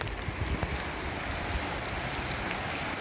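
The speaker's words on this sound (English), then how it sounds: "let me hop down into the rain just for a minute." Steady rain falls on a building construction site in the Philippines with a dense, even hiss and scattered drop patters. It is moderately loud and constant throughout, with no talk.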